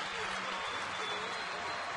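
A crowd at a ballpark cheers and applauds after a hit by Martin Prado in an Atlanta baseball game. Dense, steady roar of cheering spectators fills the whole short stretch.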